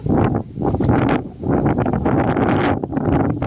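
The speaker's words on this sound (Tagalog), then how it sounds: "Lakas ng hangin." Loud, gusty wind buffets the microphone in heavy rushing bursts during an outdoor walk among large trees, with brief dips between gusts and a rustling roar throughout.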